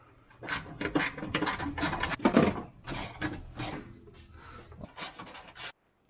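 Bolts being worked loose from the shifter counterweight on a GR Corolla, a run of close metallic ratcheting clicks and scraping clatters in quick irregular bursts, stopping abruptly near the end.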